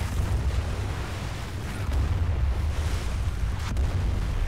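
Explosions boom and rumble in a Battlefield 4 campaign battle aboard the USS Valkyrie, a steady heavy low roar with a few sharper bursts, moderately loud with no talk.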